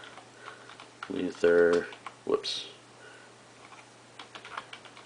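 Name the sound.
typing on computer keyboard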